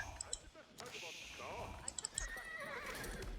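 Horse archers in the Age of Empires IV real-time strategy game neigh and whinny in short bursts. Hoof clip-clops, game effects and faint talk run underneath.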